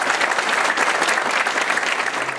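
Dense applause from a hall full of delegates at a union congress, loud and close with continuous rapid clapping throughout.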